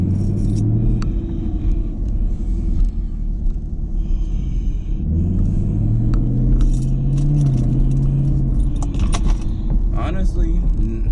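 A 2021 Camaro SS with the NPP exhaust fuse pulled is driven, its engine a low steady rumble that rises in pitch midway, with jingling rattles in the cabin and someone talking over it.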